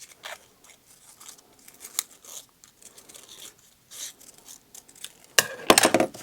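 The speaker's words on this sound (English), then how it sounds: "I'll just trim an existing circle down." Scissors trimming a paper circle down for a handmade journal cover flower, heard as quiet intermittent snips and paper rustles that finish in a louder burst of close crisp cutting near the end.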